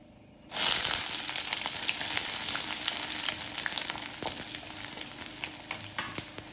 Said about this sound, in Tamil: இப்போ இதில் கொஞ்சம் வெங்காயம் சேர்த்துடலாம்.